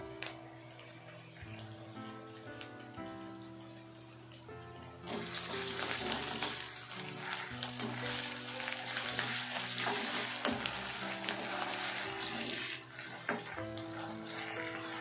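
Ginger garlic paste sautéing in a pan for cauliflower bhaji, a steady sizzle that grows louder and denser midway, with stirring scrapes and soft background music throughout.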